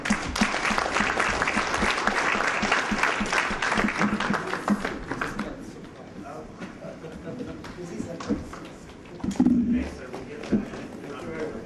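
Forum audience applauding the policy panelists: loud, dense clapping for about five seconds, then tapering to scattered claps and shuffling as a few voices murmur and speak nearby.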